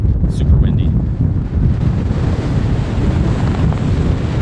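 Howling wind on a cold winter mountain ridge at Grizzly Peak batters the microphone in a loud, continuous roar, with a faint voice briefly audible early on.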